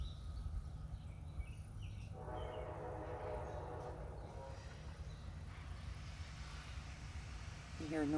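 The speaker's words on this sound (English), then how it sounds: "You hear noise in the background, that's the train" A train rumbles steadily in the distance behind a backyard square-foot garden, with a brief horn blast near the end; outdoor ambience, no clear talk over it.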